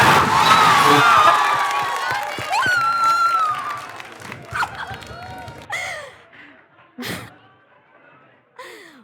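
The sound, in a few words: audience applauding and cheering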